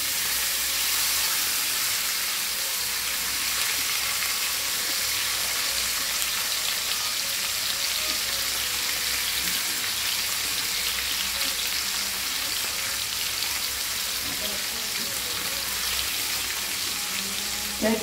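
Fish pieces fry in a pan for a Bengali fish curry, producing a loud, continuous close sizzle with faint bubbling and occasional soft knocks throughout, without any talking.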